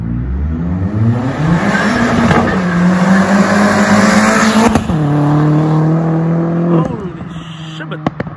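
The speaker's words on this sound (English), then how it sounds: "Listen to that pops and bangs" A hybrid-turbo Opel Astra GSI with a full OPC setup revs hard, its loud engine climbing through gears with stepped drops, then backing off with crackling exhaust pops near the end.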